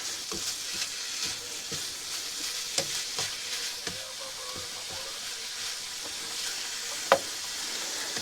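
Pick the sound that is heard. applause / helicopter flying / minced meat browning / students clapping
minced meat browning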